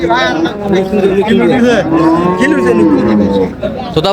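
A dairy cow moos loudly and at length, close by at the Raniganj cattle market in Dinajpur, while people chatter in the background.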